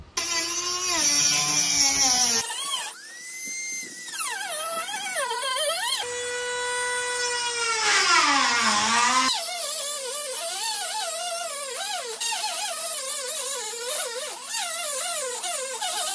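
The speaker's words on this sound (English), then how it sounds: "I am going to use a Dremel for this because I want to be able to control it here and not go too deep" Dremel rotary tool cutting into a plastic truck bumper on a Tacoma, a high, whining motor that repeatedly drops and climbs in pitch as the bit bogs and frees in the plastic, loud and close throughout.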